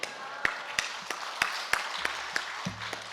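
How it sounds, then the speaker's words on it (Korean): Scattered, sharp claps ring out in a church congregation at a Korean fasting prayer retreat as a pastor comes forward, about a dozen distinct hand claps in loose rhythm over a faint low hum of voices. "할렐루야로 하나님 앞에 영광의 박수 올려드립니다"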